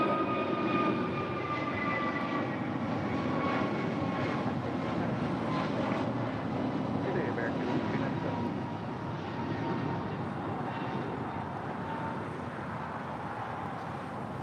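A heavy airliner taxiing at LAX makes a steady, droning jet engine rumble with a faint whine. It is distant and continuous and fades slightly near the end.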